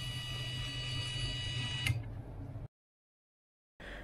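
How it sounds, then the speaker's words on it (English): Small DC motor on a Jetson Nano self-driving car running with a steady, faint electric whine and hum, a soft click as it stops, then near silence before it starts again briefly. "you will see that the motor actually starts moving, and this motor is the left top motor"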